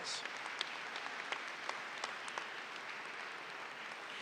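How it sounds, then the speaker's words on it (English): A crowd applauds at the Northeast High School commencement exercises, a steady dense wash of many hands clapping with scattered sharper claps standing out, filling the whole stretch evenly without any speech over it. "That deserves a round of applause."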